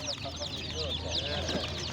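Chickens cluck in a busy open-air poultry market in Sungurlu, Çorum, many birds at close range in overlapping bursts, with people talking underneath.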